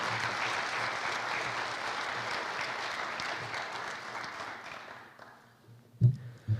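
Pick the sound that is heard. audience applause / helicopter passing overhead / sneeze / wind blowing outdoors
audience applause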